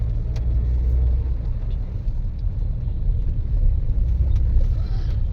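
Road traffic on a rain-soaked street as a downpour eases, a steady, loud, close rumble of passing cars and motor vehicles with faint hiss over the whole stretch and no talking.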